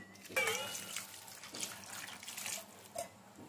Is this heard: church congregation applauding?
no